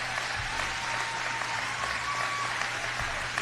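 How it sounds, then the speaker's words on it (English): Crowd applause and cheering from a played recording, a dense, steady wash of clapping that runs throughout with no talk over it. "Who are these people that are cheering?"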